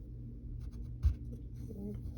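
A pen scratches on paper while a cartoon character's fingers are drawn, making soft, close, intermittent strokes with a light tap partway through, heard under quiet background hum.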